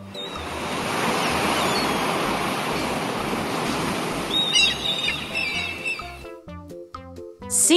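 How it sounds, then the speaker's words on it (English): Sea waves wash and roar steadily for several seconds, a broad loud surf noise that drops away near the end as short bird-like chirps and tonal sounds take over. "Sea."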